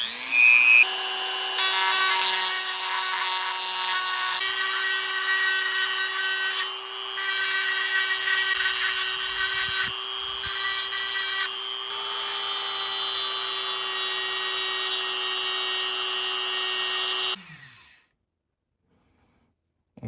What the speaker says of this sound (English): We're gonna get a Dremel and we're gonna grind these down